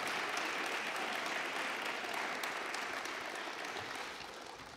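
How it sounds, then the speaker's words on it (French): Audience at an awards ceremony applauding a prize winner, a dense, sustained round of clapping that tapers off slightly toward the end. "Oui, applaudissez-la."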